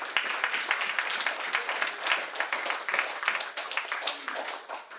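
An audience at a Christmas party dinner claps together, a dense patter of many hands with sharp individual claps, moderately distant and fairly quiet.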